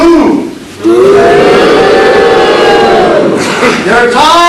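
A theater audience at a Mitkof Mummers performance lets out a loud, sustained group boo. Many voices hold a low, droning jeer for several seconds up close, then it dips and swells again.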